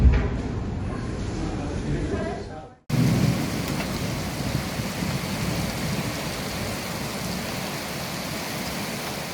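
Heavy rain pours during a flooding downpour in Tolyatti, a loud continuous roar with low thunder-like rumbling; a sharp cut near three seconds breaks the steady wash.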